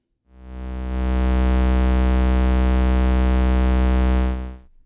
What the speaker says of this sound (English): Here's the sound of the bass module on the Pulsar 23.